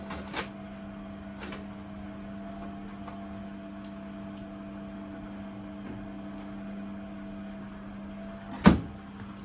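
The drain pump of a Beko WTG620M2W washing machine hums quietly and steadily for the whole stretch, with a couple of faint knocks and one sharper clunk near the end.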